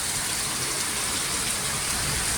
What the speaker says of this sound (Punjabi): ਜਿੱਥੇ ਭਾਰੀ ਬਰਸਾਤ ਹੋ ਰਹੀ ਆ